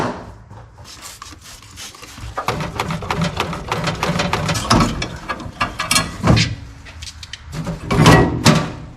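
Bolts coming off the carbon canister of a 1986 Chevy C10 pickup during teardown, heard as close, rapid ratchet clicking and mechanical rattling in bursts that get louder toward the end, with no voices.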